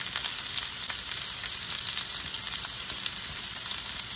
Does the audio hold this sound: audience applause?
no